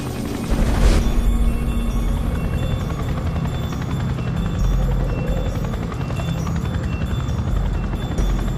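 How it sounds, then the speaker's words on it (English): A large helicopter's heavy, thudding rotor grows steadily louder as it approaches, with a deep rumble filling the air throughout. "Al-Qaeda fighters hear the rotor blades of a large helicopter approaching"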